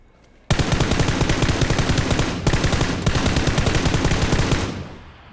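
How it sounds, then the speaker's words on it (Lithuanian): Rapid automatic machine gun fire in a video game, loud dense bursts that run almost continuously for several seconds, broken by a couple of brief pauses, with no talking. "šaudo."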